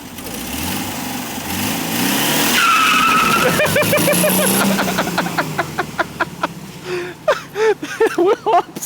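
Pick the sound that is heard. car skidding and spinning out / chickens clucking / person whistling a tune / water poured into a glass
car skidding and spinning out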